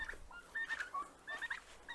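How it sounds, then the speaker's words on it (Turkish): Turkeys gobble repeatedly in quick bubbling bursts, moderately distant, with short gaps between the calls. "15 adet hindimiz var."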